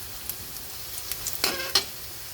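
Onion and garlic sautéing in a pan, a steady close hiss of sizzling oil with a few soft stirring scrapes and clicks, no voices.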